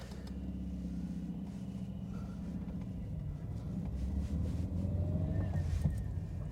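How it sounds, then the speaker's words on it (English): A Lancia Gamma Berlina engine runs at low revs with a steady, thrumming low rumble that continues evenly throughout, with some wind noise over it. "even at low revs now, you can feel that it has such a distinctive, it's like a thrummy sound, a thrummy nature to it"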